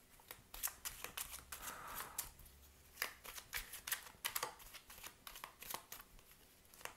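Tarot cards being shuffled by hand, a steady run of crisp riffling snaps and soft slaps, close and fairly quiet with no voices.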